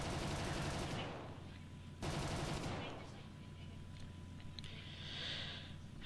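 A fighter plane in the War Thunder video game fires its guns in two rapid, rattling bursts of about a second each, over a steady engine drone.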